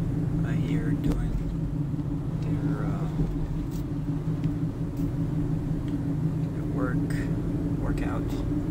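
Steady road traffic rumbles from cars driving along a road beside a creekside park, a continuous low drone with a few faint higher sounds on top and a quiet voice now and then.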